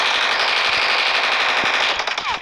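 Rapid continuous automatic rifle fire in PUBG, a fast even stream of shots over a hissing, bright wash, fairly loud and close, breaking into a few scattered shots at the end, with no talk.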